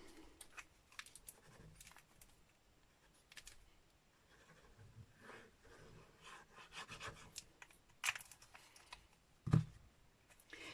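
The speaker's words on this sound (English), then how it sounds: "I'm just going to fold that over and burnish it" Thick Whisper White cardstock folded over and burnished by hand, soft close rubbing and scraping strokes in irregular bursts with a few light taps, faint in a quiet room.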